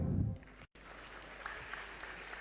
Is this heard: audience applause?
yes